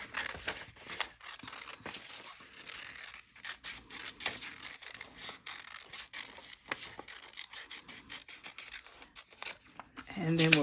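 Scissors snip and crinkle through paper in quick repeated cuts, close and fairly quiet, with rustling between strokes.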